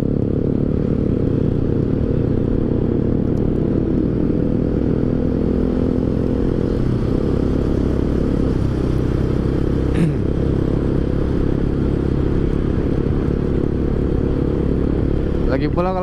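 A Yamaha Scorpio Z motorcycle engine rumbles and revs steadily up close in city traffic in Medan, with traffic noise and occasional clatter around it.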